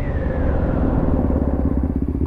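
A small Honda Varadero 125 motorcycle's single-cylinder engine runs close by, thumping in a steady, rapid rhythm with a slight rise in pitch.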